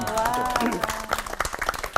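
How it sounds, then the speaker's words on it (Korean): A studio audience at a Korean church talk show breaks into applause, scattered claps building after a brief voice at the start and continuing as a loose, moderately loud patter. "박수 한번"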